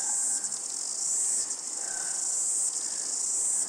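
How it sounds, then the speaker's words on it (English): Steady, dense high-pitched cicada buzzing fills the air continuously, with a faint hum of wind through trees beneath and no voices. "There's the wind through the trees, and there's these cicadas."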